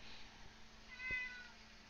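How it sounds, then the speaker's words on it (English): A cat gives a single short, quiet meow indoors against low background hum, with no talking. "Oh, hi, kitty."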